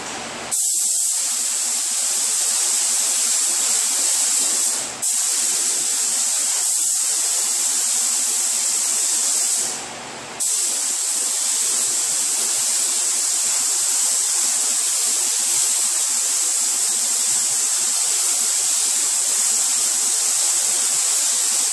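A sealer coat sprayed onto a stripped 1989 Volvo 740 fender makes a loud, steady aerosol hiss, briefly broken by short pauses.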